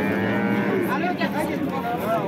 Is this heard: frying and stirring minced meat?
no